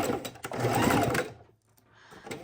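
Sewing machine stitching through a pillow, a loud steady mechanical whir close by that runs for over a second, stops briefly, then starts up again.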